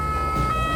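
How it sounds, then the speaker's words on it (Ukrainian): Ambulance siren on a handed-over intensive-care ambulance, switched on and sounding loud and steady at close range, its tones held throughout. "Це сирена."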